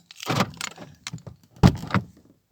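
The door lock on a Mercedes W203 with a faulty right door is worked with a key, giving a handful of close, sharp mechanical clunks and clicks, with a firm latch thunk near the middle.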